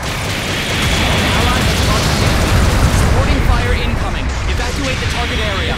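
A mobile suit is destroyed in Gundam Battle Operation 2, heard as a dense, roaring explosion with crackling bursts that sustains loudly throughout, thick and close, with no distinct voices.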